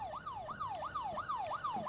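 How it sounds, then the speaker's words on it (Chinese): A police siren in the horror video game Fears to Fathom: Home Alone wails in a fast repeating rising-and-falling sweep, about four cycles, clear and steady with no talking. "我听到警笛的声音了，是警察吗？"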